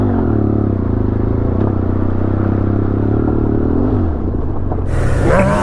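Motorcycle in first gear on a gravel forest road, a steady close engine rumble with clattering that dips briefly before wind noise rushes in near the end.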